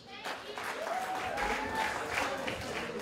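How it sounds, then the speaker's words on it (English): Audience applause at a film premiere for a studio production, a steady wash of clapping from a crowd lasting throughout, with a faint tonal whine and some voice activity mixed underneath. "big round of applause for Maxi Boy Studio Production"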